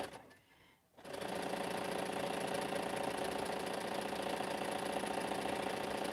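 A sewing machine stitches the sashing of a quilt, starting after a brief quiet moment and then running in a fast, steady, even mechanical whir close by.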